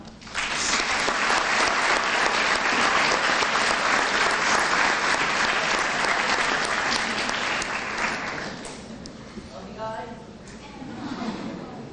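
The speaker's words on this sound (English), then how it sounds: "Fellow students, please turn and applaud your families for a job well done." Students at a school promotion ceremony give their families a long, loud round of applause that fills the hall for about eight seconds, then thins out and fades, with a little scattered clapping at the end.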